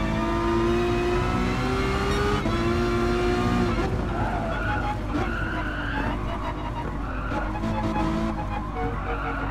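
Ferrari race car with nearly 1000 horsepower in the Gran Turismo Sport racing game, engine revving loud and continuous with gear shifts and tire squeal, heard alone.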